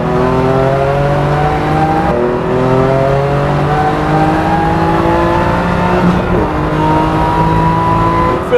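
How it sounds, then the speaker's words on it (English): A 510 bhp BMW M2 Competition accelerating hard on a race track, heard from inside the cabin: a loud, continuous engine roar with rising then shifting tones through gear changes, dominating throughout. "Acceleration on this, flipping mad."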